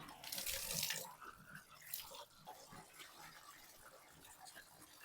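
Running water rinses shampoo out of hair, a steady close splashing stream that is loudest at first and then settles into softer, uneven trickling and dripping.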